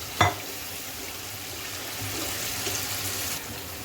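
Soaked moong and masoor dal frying and being stirred in a pan, a short clatter at the start followed by a steady, moderate sizzle with faint scraping throughout.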